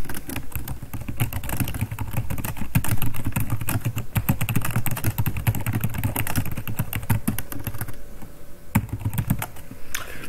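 Fast, continuous typing clatters on a computer keyboard for about ten seconds, with dense, close keystrokes, a few louder key hits and no voices.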